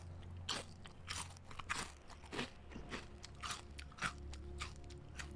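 Someone chews crunchy cereal loudly with an open mouth, close wet crunches and bites coming in a quick uneven rhythm, with no talking.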